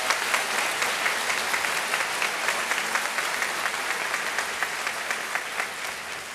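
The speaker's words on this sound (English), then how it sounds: "How about a big round of applause?" A high school graduation audience claps in a sustained, dense round of applause that holds steady from start to finish in a large hall.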